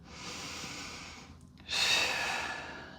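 Deep, slow breaths during a Pilates exercise, one long airy exhale, a brief pause, then a stronger inhale, close and fairly soft with no talking.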